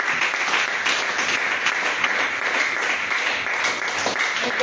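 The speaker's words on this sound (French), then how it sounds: "Acclamons pour Jésus" Church congregation clapping in applause during a worship service, a dense steady wash of many hands sustained throughout, fairly loud and without speech over it.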